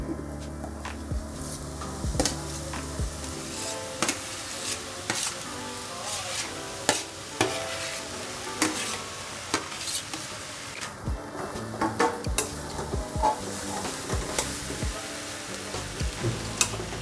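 Mashed potato is stirred into a sizzling pan mixture for potato bonda, giving a steady frying sizzle with repeated scraping and knocking stir strokes close by throughout.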